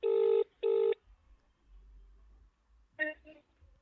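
Telephone keypad tones as a call is dialed: two long, evenly spaced beeps, a pause, then a shorter double tone, clear and close, with faint background noise between and no talking.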